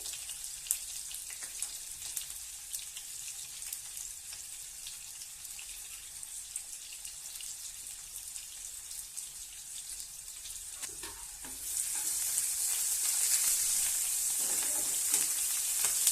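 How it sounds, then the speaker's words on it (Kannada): Oil fries in a pan for gobi (cauliflower) curry, a steady bright crackling sizzle that turns noticeably louder and hissier partway through, close by with no talking. "ಇದು ಫ್ರೈ ಆಗ್ಬೇಕ್ರಿ"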